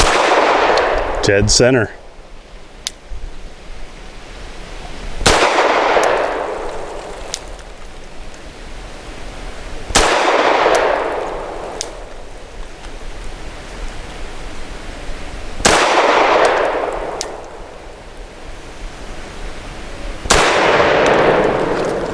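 Five sharp pistol shots from a Beretta 92 Elite LTT crack at an outdoor range, the first fired double action. They come at slow, even intervals, each with a ringing decay, and a voice speaks briefly near the start.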